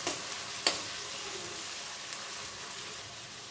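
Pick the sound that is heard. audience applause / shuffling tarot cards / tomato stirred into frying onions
tomato stirred into frying onions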